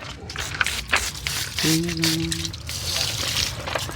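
Water poured slowly over a person during a bath, a soft trickling and splashing stream that rises and falls, with a low hum and a voice speaking faintly at times.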